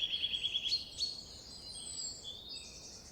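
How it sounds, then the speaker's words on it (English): A single bird sings outdoors on a nature walk, a quick run of repeated high chirps followed by a few longer whistled notes and a thin trill, clear and fairly close over a quiet background. "Is the bird singing a slow, low song?"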